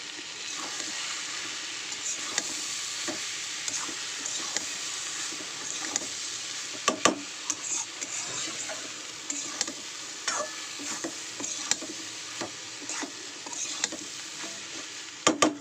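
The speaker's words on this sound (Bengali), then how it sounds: "এটা ভালো করে আমি কড়াই ফ্রাই করব" A double-yolk egg is stir-fried in a hot wok for a snack, giving a steady close sizzle broken by irregular scraping and tapping of the spatula against the pan, with no voices.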